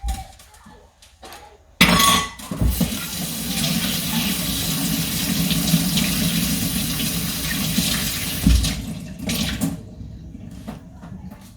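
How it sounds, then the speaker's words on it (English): Running tap water splashes into a kitchen sink as seeds are rinsed away, a loud steady rush that starts abruptly after a few quiet knocks and cuts off near the end, followed by faint handling sounds. "So we're just gonna wash this out now to get rid of the extra seed."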